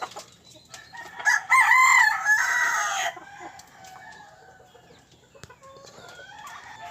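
Pet chickens and a rooster at feeding time: one loud rooster crow rings out close, followed by quieter scattered clucks from the flock.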